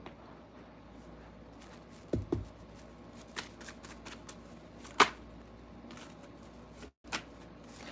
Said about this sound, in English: y'all can see me shuffle the cards to see what card comes out